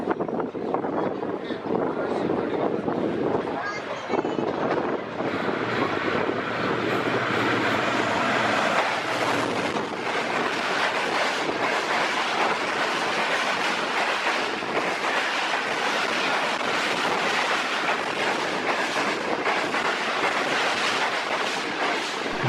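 A Pakistan Railways express train rolls through Jungshahi railway station in Sindh with a loud, continuous roar and rattling of wagons that lasts throughout, close by, with faint voices underneath.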